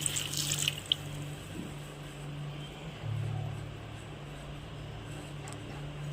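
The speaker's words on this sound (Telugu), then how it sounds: "చూడండి, నీళ్ళు వేసేసుకున్నాను" Water is poured into a pot of boiled tomatoes, cashews and onions for a gravy: a short splashing pour up front, then a low, quiet kitchen hum.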